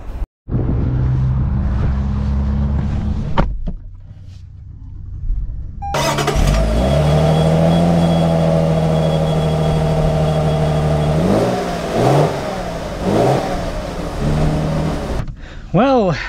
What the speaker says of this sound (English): let us set off in the LX 600 Premium